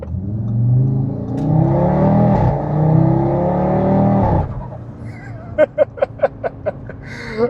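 An Audi RS3 8Y2 engine revs hard and loud under acceleration, holds a steady strained pull, then drops off into a burst of sharp pops and crackles from the exhaust.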